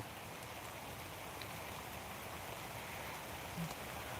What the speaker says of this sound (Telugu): వర్షం పడిపోతుంది ఇక్కడ